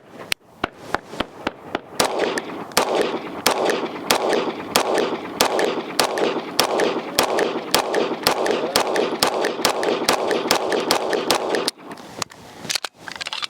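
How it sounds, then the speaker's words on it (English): Rapid 9mm pistol shots from a Kimber KDS9c firing 124-grain rounds at an outdoor range, a dense run of sharp cracks packed closely together for about ten seconds, loud and near, with other shooters nearby. "I'm gonna get the first rounds through here, shooting some 124 9mm"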